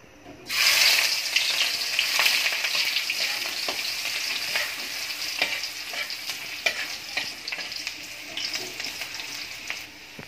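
Onions sautéing in a pan for Filipino menudo, a bright crackling sizzle bursting in as they hit the oil, then settling into a steady fry with scattered stirring clicks.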